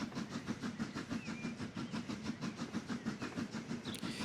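A train runs along the track in a railway-building game, with a steady rhythmic clickety-clack of wheels and a continuous low rumble at close range.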